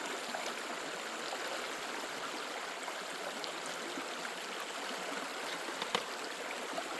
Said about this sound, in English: Another stream.